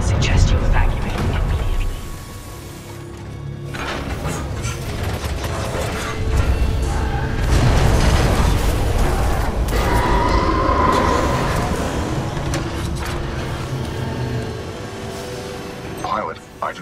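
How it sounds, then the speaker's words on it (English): Series of explosions in the Titanfall 2 video game, a dense, sustained roar of blasts, booms and mechanical rumble that stays loud throughout. "a series of explosions just weakened the manipulator arm"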